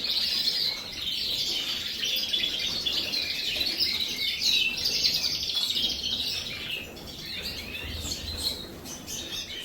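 Gloster canaries chirp and twitter continuously inside a purpose-built birdroom, several birds at once in a steady, busy chorus at moderate loudness, with no one talking.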